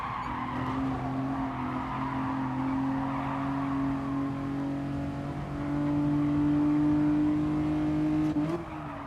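A race car in Gran Turismo Sport, its steady engine tone holding through a corner, with tire scrub and a brief squeal near the end under the braking, moderately loud and with no talking.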